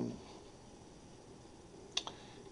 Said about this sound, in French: Donc, je clique sur « Download ».